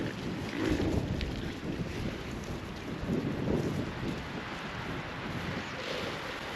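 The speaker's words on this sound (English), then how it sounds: "It's because of the wind." Wind gusting across the microphone outdoors on a rural homestead, a loud rumbling buffet that rises and falls in uneven surges with broadband rushing noise and no voices.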